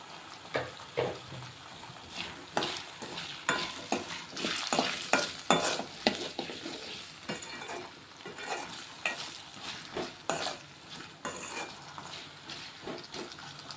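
Potatoes frying in a pan for a potato-tomato curry, a constant sizzle broken by repeated scraping stirs, close and moderately loud, with no voices.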